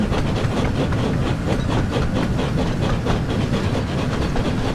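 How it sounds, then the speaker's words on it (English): An express train in the Thomas and Friends: Wonders of Sodor video game runs steadily along the track, with a continuous loud rumble and faint rhythmic clickety-clack and hiss, heard alone without voices. "they are running as an express train here, so that's why they have to like go in the middle"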